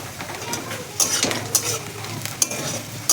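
Onion frying in a pan with pointed gourd then added, a steady sizzle with stirring and a few sharp clinks of a utensil against the pan, close and moderately loud.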